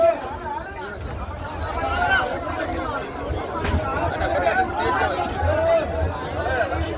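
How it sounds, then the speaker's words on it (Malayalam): Fishermen at Thottapally fishing harbour in Kerala shout to clear boats ahead, a steady babble of overlapping raised voices against harbour bustle and low engine rumble. "ഒച്ച വെച്ച് മുന്നിലത്തെ വള്ളം മാറ്റാൻ ശ്രമിക്കുകയാണ്."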